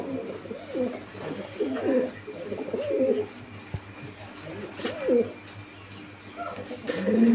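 Pigeons at a breeding farm coo in repeated rolling bursts, several calls spaced across the stretch, close by, with faint background noise.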